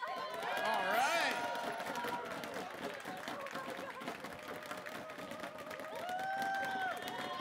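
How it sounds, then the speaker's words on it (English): A live show crowd cheers and applauds in a dense, continuous roar of claps and shouts, loud and enveloping throughout, with voices talking over it. "The crowd is going wild right now."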